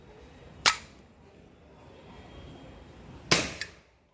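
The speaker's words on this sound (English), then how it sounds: "let's shoot the pistol and see" A Star RX Camstar CO2 air pistol fires a Diablo 7.4 grain pellet: two sharp, close pops about three seconds apart, the second followed by a faint quick click, over a quiet room.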